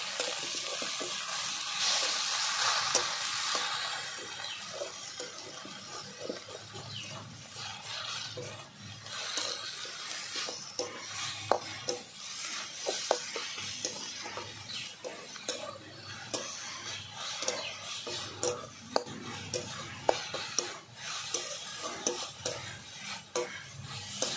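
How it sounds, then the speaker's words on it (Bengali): Cooked leafy greens (shak) are stirred in a pan with a spoon, giving steady scraping and clinking strokes over a soft, constant sizzle. "দেখো শাক গোলে কতটা হয়ে গেছে, নাড়িয়ে দেবো ভালো করে।"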